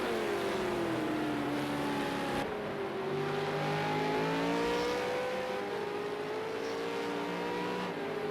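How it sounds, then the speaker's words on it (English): V8 Supercar race cars at Ruapuna Park, with an engine note sweeping up and down as a car works the throttle. The sound is steady but fairly faint and distant. "Woody Lizard gets on the throttle, does the big tank slapper, loses a lot of time"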